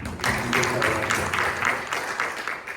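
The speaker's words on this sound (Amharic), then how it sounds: "ለራሳችሁ ነው አጨብጭቡ በደንብ እንጂ" Congregation clapping in a church in Oakland, a dense, steady patter of many hands that holds loud and close from start to finish with voices mixed in.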